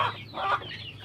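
Poultry-farm chickens cluck in short bursts at close range, several hens calling over one another without any talk.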